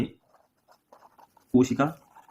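A pen scratches faintly across a notebook page in short, light strokes, followed by a person speaking loudly near the end.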